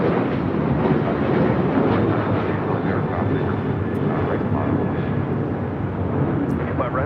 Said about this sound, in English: This is American Airlines 2608 taking off to Chicago O'Hare on a 737-800.